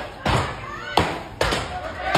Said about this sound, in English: In this one, his chops sound like gunshots.